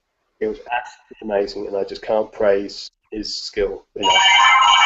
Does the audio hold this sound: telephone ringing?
yes